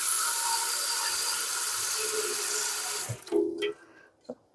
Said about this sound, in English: So it says you just fill enough water to cover the burn mark